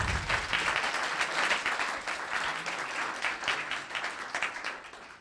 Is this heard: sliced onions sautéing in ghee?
no